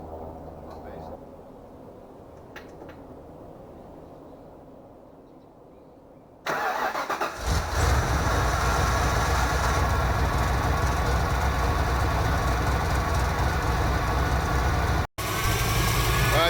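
A 1982 Ford Capri RS engine runs at idle during warm-up, a loud steady mid-pitched drone with a brief dropout near the end, preceded by quieter ambient rumble before it comes up.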